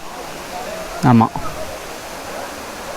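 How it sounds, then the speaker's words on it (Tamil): Kiliyur Falls runs with low water during the dry season, a steady, moderate rushing hiss that a brief spoken word interrupts partway through. "ஸோ தண்ணி இவ்வளோ தான் வருது கிளியூர் ஃபால்ஸில் இப்போதைக்கு"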